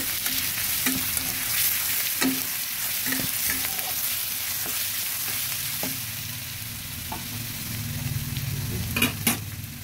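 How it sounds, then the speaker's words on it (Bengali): Crushed garlic frying in oil produces a steady, close sizzle with occasional sharp clicks and taps from stirring, rising to a brief cluster of crackles near the end. "থেতো করে রসুনটা দিয়ে দিলাম। রসুনটা কিছুটা ভাজা হয়ে আসলে"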